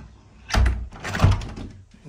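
A double-glazed UPVC front door of a house is handled up close, giving two loud thudding knocks and rattles about half a second apart, each fading quickly into a quiet room.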